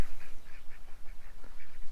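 A duck calls with a string of short, nasal honking quacks in a quick uneven rhythm, moderately close and heard alone over a low background rumble.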